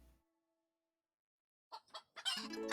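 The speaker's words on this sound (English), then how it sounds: "Wait, chickens, wait." Chickens in a video game chicken run cluck in a few short bursts, the last one louder and busier, after a near-silent stretch.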